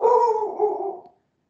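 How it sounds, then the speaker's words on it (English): A single dog lets out a drawn-out, loud howl-like cry lasting about a second, then falls silent. "oh, there goes the dog again."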